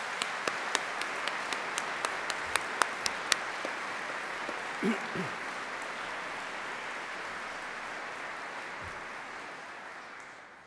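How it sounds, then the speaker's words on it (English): A large crowd at a degree ceremony in Exeter Cathedral applauds in a steady, dense wash of clapping that slowly fades toward the end. "So let's give them a round of applause."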